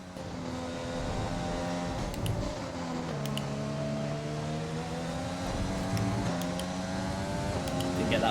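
An F1 car in the F1 2020 video game drifting at the Japanese Grand Prix, a loud steady engine whine with shifting harmonic pitch as revs rise and fall, continuous throughout.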